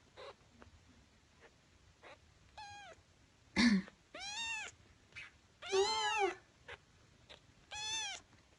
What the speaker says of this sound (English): Such cute 10-day-old kittens.